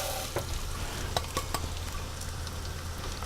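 Rice being stirred in hot oil in a pan for chicken risotto, a continuous close sizzle broken by a few sharp scrapes and clicks of the spoon, with no talking.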